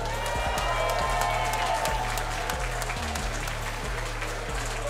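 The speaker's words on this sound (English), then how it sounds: "Give me a big round of applause" Boxing event crowd giving a round of applause, sustained clapping and cheering heard over loud thumping music with a steady beat, a voice audible faintly in the mix.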